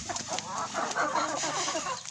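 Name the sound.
hen clucking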